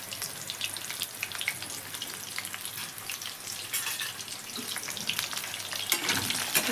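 Marinated mushrooms seasoned with salt and pepper fry in a hot pan, giving a continuous close sizzle with light stirring scrapes that grows slightly louder toward the end.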